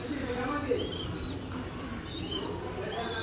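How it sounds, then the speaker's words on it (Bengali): Racing pigeons about to be released for a 35-kilometre race at Mawa coo and chirp softly over steady outdoor background noise. Faint voices murmur underneath. "এখানে যে কবুতর আমরা ছেড়ে দিবো"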